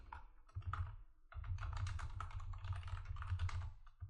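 Someone types a question on a computer keyboard, rapid clicking keystrokes in two bursts separated by a short pause, close and fairly quiet with no talking.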